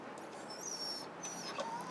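An 8-month-old puppy whimpers with thin, high whines that rise and fall, fairly faint against soft room noise, with a couple of brief yips near the end.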